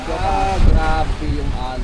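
Heavy ocean waves surge and crash around a small motorboat at sea in a brief, loud, rushing burst with wind noise, while voices talk faintly.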